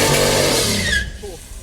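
A Pontiac Firebird Trans Am roars and squeals its tires in a burnout, loud engine and skidding rubber for about a second before fading, with a person talking over it.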